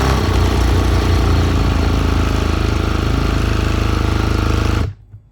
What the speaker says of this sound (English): I'm going to put my starter into my starter shaft, hit the button, and see if we are reading RPM.